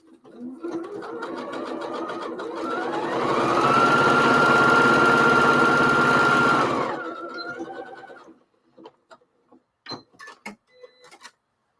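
A sewing machine stitching fabric for a grocery bag, a loud close steady whir that speeds up, runs for several seconds, then slows and stops, followed by a few soft clicks.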